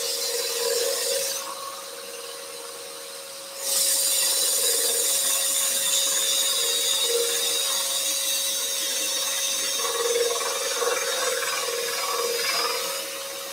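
Scroll saw cutting a wood workpiece along a marked line for a compound-cut candle, a steady close buzzing rasp with a constant motor hum that dips briefly then resumes for the rest of the cut, no talking.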